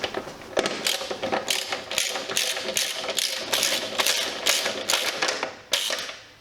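A ratchet spanner turning a bolt while a motorcycle is worked on, a close series of loud, rhythmic clicking strokes in regular bursts.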